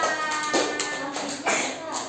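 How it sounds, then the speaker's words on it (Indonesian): Schoolchildren in a classroom during a Pancasila lesson clap for a classmate. The clapping is brief and uneven, made of scattered taps rather than steady applause, with voices mixed in. "Tepuk tangan buat Mas Awan."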